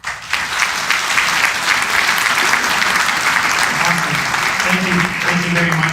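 Applause fills a community forum on housing and homelessness: a loud, sustained wave of clapping from the audience, with voices murmuring beneath it toward the end.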